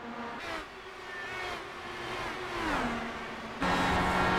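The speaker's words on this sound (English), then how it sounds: "Hear that engine." An IndyCar engine in a racing video game whines steadily at high revs from onboard, its pitch sliding down and back up through gear changes, loud and continuous with no one talking.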